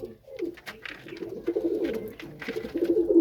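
Pakistani Aliwala pigeon cooing close by, a steady run of low, throaty rolling coos repeating across the whole stretch with a few soft flutters and rustles.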